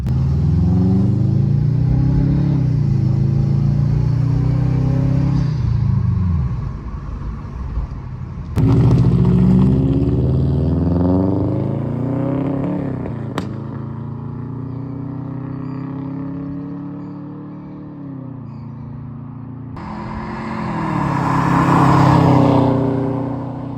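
A car fitted with a newly installed replacement engine drives along, its engine note a steady, healthy rumble that rises and falls with gear changes and a brief rev, close and continuous throughout, with no talking.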